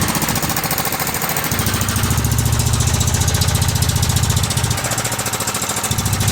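Small engine on a Cub Cadet 2166 garden tractor with a bad head gasket, running loud and close with a rough, rapid knocking pulse that rises and dips as it labours, no talk.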